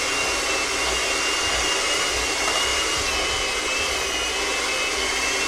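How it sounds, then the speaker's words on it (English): An electric mixer whirring loud and steady as it beats a lemon dessert, a continuous high-pitched motor whine with no talk. "Clearly, I need a new mixer."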